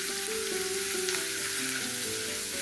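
Green chillies sizzle in hot oil while mango pickle is cooked, a continuous dense frying hiss with a faint steady tone beneath, close and even throughout.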